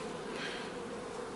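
Dense swarm of honeybees buzzing steadily at an opened beehive in an August beeyard, a loud continuous hum with no talking.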